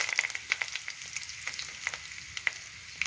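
Dried red chilies frying in hot oil after mustard seeds have popped, a close, busy crackle of quick sharp pops over a soft sizzle, with no one talking.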